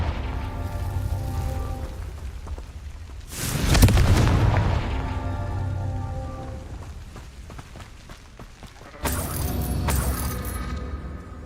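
A Confringo fire spell detonating in Hogwarts Legacy, a deep booming blast with crackling debris that fades slowly, followed later by a second burst of rumbling noise, loud against a steady game ambience.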